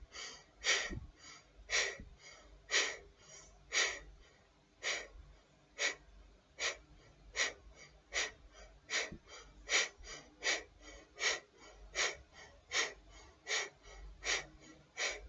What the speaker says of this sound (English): we're going to do breath of fire, inhaling and exhaling through the nose with equal lengths